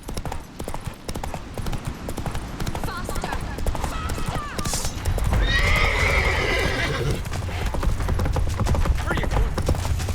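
Hoofbeats of Roach, a horse in The Witcher 3 game, galloping in a steady clip-clop with a whinny, louder in the second half, under game music, effects and brief talk.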